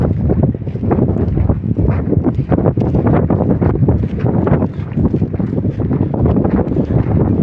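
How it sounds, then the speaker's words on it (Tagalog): Strong wind roars and buffets the microphone continuously, loud and gusty throughout, with no voices. "Grabe yung hangin."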